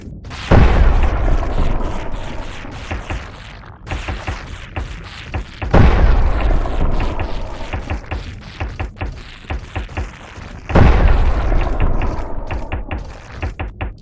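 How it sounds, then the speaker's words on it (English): Napalm launcher in Ocean Keeper, fired and bursting in three heavy booming blasts spaced several seconds apart, each followed by crackling, rumbling fire and mechanical clatter. "I'm not so much launching the napalm as I am dropping it."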